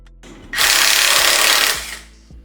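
Harbor Freight Earthquake impact wrench taking bolts off an Acura TSX engine, a single loud, close rattling burst of about a second, then falling quiet.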